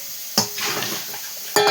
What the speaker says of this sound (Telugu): ఉట్టు ఆనియన్స్ వేసి ఫ్రై చేసేస్తాను.